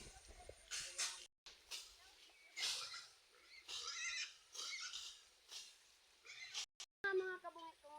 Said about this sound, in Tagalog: pasisya na kayo kasi maingay yung baboy ko.